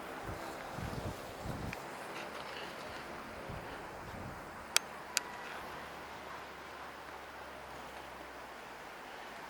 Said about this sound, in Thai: ลมค่อนข้างจะแรงพอสมควรเนาะวันนี้